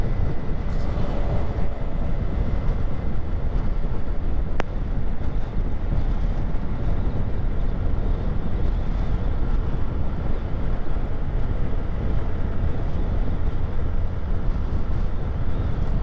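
A Honda CG 160 Fan motorcycle engine runs at high revs on a highway, a steady continuous drone mixed with heavy wind rush throughout, no pauses.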